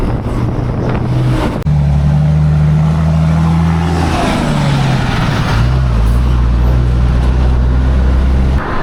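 Road traffic with trucks passing close on a busy road, loud engine drones rising and falling as heavy vehicles go by, one low rumble shifting pitch midway, continuous without talk.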